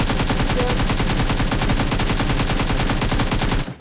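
An AKM assault rifle with a 6x scope fires in a video game, a loud, sustained automatic burst of rapid, evenly spaced shots. The firing runs almost nonstop and cuts off just before the end.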